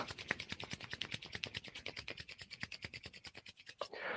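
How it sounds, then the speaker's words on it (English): Palms rubbed briskly together to warm them during a qi gong exercise, a quiet, rapid rhythmic swishing of about thirty strokes with no talking. "rubbing your hands all nice and toasty warm"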